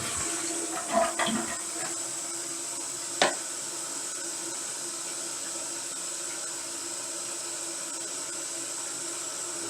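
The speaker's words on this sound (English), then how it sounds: "And then we can flush the toilet." A newly installed toilet in a small renovated bathroom flushes, a steady rushing swirl of water heard continuously, with a few brief clicks and taps near the start.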